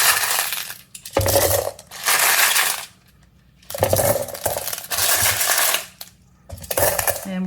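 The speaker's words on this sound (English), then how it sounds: "we'll go ahead and fill up barrels here with my stage 3 rock" Tumbled stage 3 rocks poured in three separate bursts into rock tumbler barrels, each a loud, close clattering rattle of many stones lasting about a second or more, with brief quiet gaps between.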